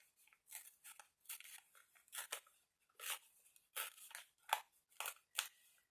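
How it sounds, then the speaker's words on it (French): Scissors snip through fabric around the wings of a travel notebook, in a steady run of short, crisp, close cuts with brief pauses between them. No talking is heard. "Donc, je vais découper un peu plus autour des ailes."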